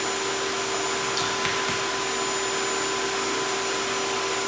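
A blow dryer runs steadily near a fearful dog, giving a loud, continuous airy roar with a few faint knocks and taps and no talking.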